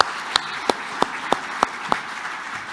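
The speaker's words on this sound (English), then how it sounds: "Give all of our speakers a round of applause." Audience at the Midwest Economic Outlook Summit 2022 clapping for the speakers: sharp, evenly spaced claps, about three a second, over quiet room noise.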